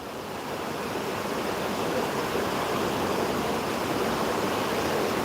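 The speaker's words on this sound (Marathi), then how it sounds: "तुम्हाला दाखवतो कसला आवाज उलाला पाण्याचा" River water pushing a babul log downstream in rural Maharashtra on a Sunday makes a loud, steady, unbroken rushing roar close by, with no talk.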